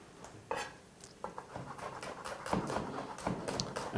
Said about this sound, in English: slicing those a little thicker than we would for a salad or for a stir fry